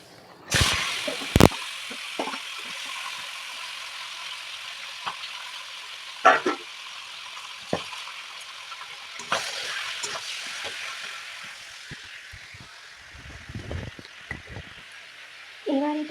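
Chicken pieces hit hot oil tempered with garam masala and sizzle in a steady, bright hiss, with a few sharp spits and crackles near the start and scattered pops throughout.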